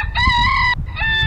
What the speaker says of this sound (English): We heard the rooster.